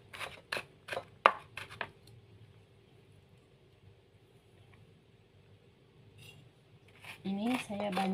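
A knife chops garlic coarsely on a board for Indonesian stir-fried water spinach in oyster sauce, making a quick cluster of sharp, close taps, then a lull with scattered soft knocks before a voice starts speaking.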